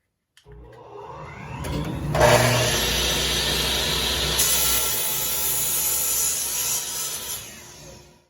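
Small wood pieces for a finger joint jig being cut: one continuous, steady, rasping sawing sound that runs about seven seconds without a break and grows slightly louder and brighter partway through, close and loud with no talking.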